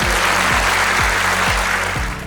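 An audience claps briefly at a leadership training session, with loud, dense applause over a steady low rhythmic thump that fades slightly at the end.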